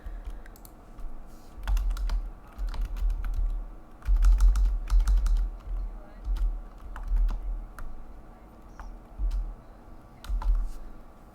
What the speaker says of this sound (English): I didn't finish typing it.